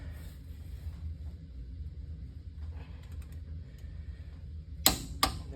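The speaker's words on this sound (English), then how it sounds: "So I have my torque wrench ready to go, and we're gonna crank her down." A torque wrench cranking down wheel hub studs on a Ford F550, heard as two sharp metallic clicks near the end after a stretch of low rumble and faint scattered ticking from close by.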